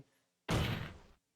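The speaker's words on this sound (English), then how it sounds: "we did the table slam?" A single heavy table slam from the video game Ace Attorney lands abruptly, its thick burst fading out over about half a second, with near silence before it.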